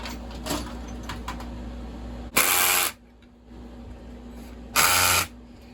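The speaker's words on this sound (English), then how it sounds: "this is not an impact. This is a screw gun." Screw gun tightening the bumper spikes on a STIHL MS661 chainsaw, with two short, loud whirring bursts of about half a second each, a couple of seconds apart, over a low steady background hum.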